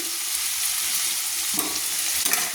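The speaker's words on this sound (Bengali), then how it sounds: "পেঁয়াজটাকে একটু হালকা লাল লাল করে ভেজে নিচ্ছি" Steady sizzling of onions frying in hot oil, continuous and close, with a couple of stirring scrapes toward the end.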